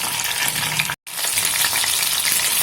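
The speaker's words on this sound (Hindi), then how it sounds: "अब मैं सारे चिकन को फ्राई करके आपको दिखाऊंगी।" Chicken pieces deep-frying in hot oil in a home kitchen, a steady dense crackle and hiss that breaks off for a split second, then resumes just as loud and continuous.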